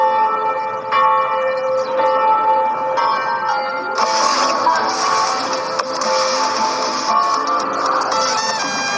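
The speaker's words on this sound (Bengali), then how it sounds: "সে ক্যাথিড্রালের বেল বাজানোর আমন্ত্রণ পেয়েছিল" A cathedral bell rung in a Mexican town: sustained metallic bell tones ringing loud and continuous, growing brighter and fuller partway through, with a steady resonant hum throughout.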